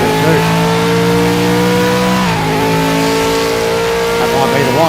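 A supercar engine in a racing video game revs high with short gearing, its tone holding steady, dropping at a gear change, then climbing again, loud and continuous under someone talking.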